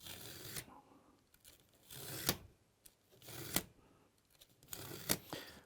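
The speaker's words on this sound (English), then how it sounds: "So I'm going to cut the foam from this side just by placing a set square on here." A blade cuts through foam guided along a set square during a wood slat wall panel install, giving a few quiet rasping, tearing strokes with sharp scratchy bursts spaced a second or so apart, with no talk.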